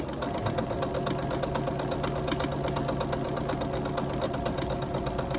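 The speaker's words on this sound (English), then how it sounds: "you're going to sew a quarter inch on each side of that line you drew on all 16" Sewing machine running steadily while stitching quilt squares for a Carpenter Star quilt, a fast even needle clatter over a motor hum, close and continuous with no talk.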